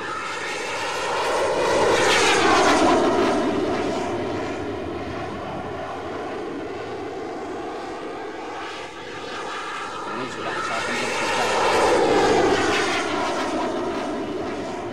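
An A-10 Warthog jet aircraft roars on throttle for takeoff, a loud sustained engine drone with sweeping pitch changes that swell and ease over the span, with no other sounds standing out.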